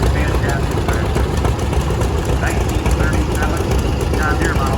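An antique tractor engine idles at a parade of power, a steady low chugging rumble that runs throughout, with a voice talking over it.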